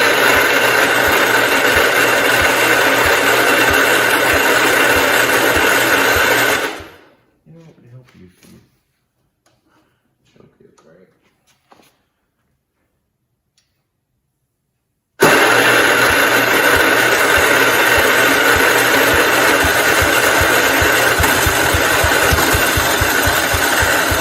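A 1969 Spruce Blue 112 Patio engine tries to start. Loud, rough engine noise for about seven seconds, then it cuts out to near silence with faint handling sounds, and it roars back loudly for the last nine seconds.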